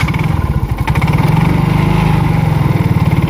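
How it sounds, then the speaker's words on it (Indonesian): A Yamaha X-Ride automatic scooter engine runs steadily after starting, with a loud, close, even idle that pulses rhythmically throughout. "Hidupin motornya."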